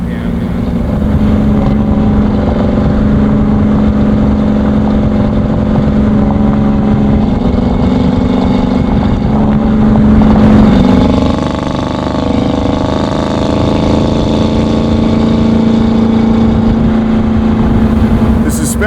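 A 650 hp supercharged LT4 V8 in a 1968 Camaro restomod with a six-speed manual drones steadily while cruising, a low, even hum that briefly swells and shifts pitch midway, then settles again.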